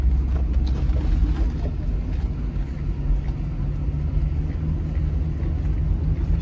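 A 1979 Mercedes-Benz 450 SL on a test drive gives a steady, loud low engine and road rumble throughout, with no voices.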